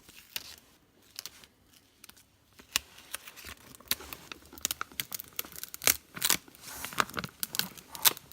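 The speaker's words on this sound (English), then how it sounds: "Run it flat on itself and peel back." Glitter self-adhesive vinyl being peeled back off its backing sheet, a run of crackly crinkling and tearing noises that build in intensity, close up with no voices.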